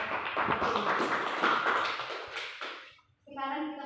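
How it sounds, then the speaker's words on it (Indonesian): A classroom group claps for a student biochemistry research presentation, a dense burst of applause mixed with voices that stops abruptly before someone starts speaking. "kita berikan aplaus untuk kelompok"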